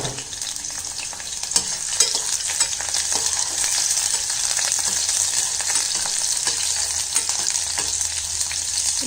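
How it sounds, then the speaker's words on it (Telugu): Green chillies fry in plenty of hot oil in a pan for an Andhra stuffed brinjal curry, giving a steady, loud, close sizzle with occasional stirring scrapes throughout. "ఇప్పుడు ఆయిల్ హీట్ ఎక్కింది. పచ్చిమిర్చి మనం కొంచెం వేయించుకుంటాం."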